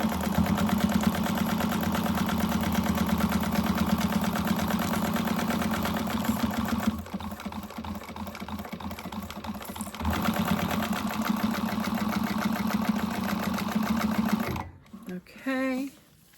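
A sewing machine back stitches a seam, running loud and steady for several seconds, easing briefly, then resuming before stopping, with a voice speaking near the end.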